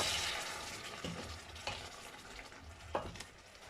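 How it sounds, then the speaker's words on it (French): Boiling water poured into a pot of meat and rice, a sustained hissing rush with a few sloshing splashes and clinks, fairly close and without voices. "On met de l'eau bouillante qu'on a fait bouillir à l'avance."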